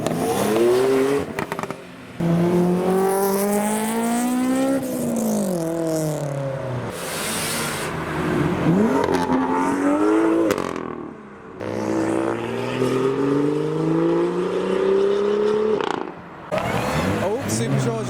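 A Mazda MX-5 with a supercharger accelerates at a busy modified car meet, its engine note climbing through repeated revving sweeps with a whine on top, heard under ongoing conversation.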